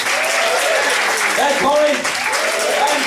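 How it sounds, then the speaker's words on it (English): An audience at a comedy club applauds the night's acts, steady dense clapping throughout, with a voice talking over it. "Let's have a round of applause for all the acts you saw tonight"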